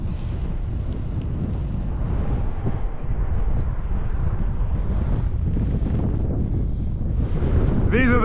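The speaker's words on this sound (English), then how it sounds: "Santa Ana winds coming in from the desert, and you know, we'll see how bad it gets" Strong Santa Ana wind blows in from the desert near Alpine under a high wind warning, a loud, continuous buffeting roar that rumbles against the microphone, with a sharper gust at the end and no talking.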